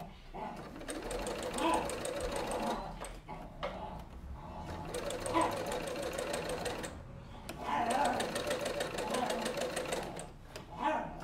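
A sewing machine runs a backstitch over doll hair in three long whirring, rattling bursts separated by short pauses, close and fairly loud.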